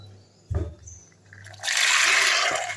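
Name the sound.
soaked peas and water poured into cooker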